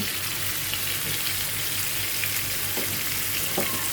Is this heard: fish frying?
yes